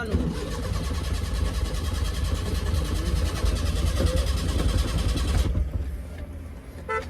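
A Maruti 800 engine with a weak battery cranks continuously for several seconds without catching, a loud rhythmic churning that cuts off near the end, with a voice heard briefly.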